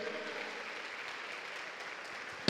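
A church congregation applauds during a sermon, a fairly quiet, steady wash of clapping that holds evenly throughout, ending in a brief sharp knock.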